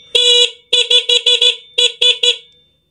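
Newly wired car horn honking in a series of short beeps, one longer blast then rapid taps, loud and close with a clear pitched tone, ending in silence.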